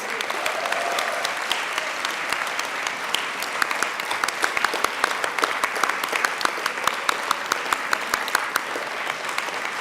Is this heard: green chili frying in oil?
no